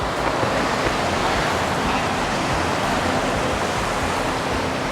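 Steady surf rushes and washes along Miramar Beach in Goa at sunset, a constant broadband roar of waves close by with no voices.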